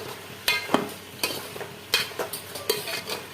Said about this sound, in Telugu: వేసుకుని హై ఫ్లేమ్ మీద ఒక 2 మినిట్స్ కలపాలి